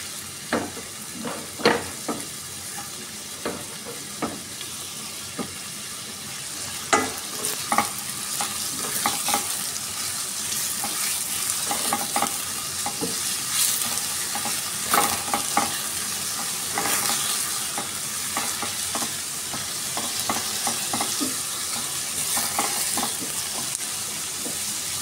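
Garlic and onion sauté in a pan with a dense, continuous sizzle and irregular scraping stirs and clinks throughout, close and moderately loud, with no talking.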